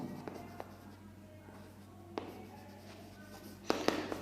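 Pen or pencil scratches faintly across paper while a maths solution is written out, with quiet strokes, a few light taps and a louder pair of clicks near the end, set against a low steady hum.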